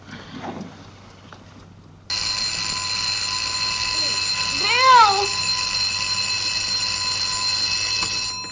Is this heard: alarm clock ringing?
yes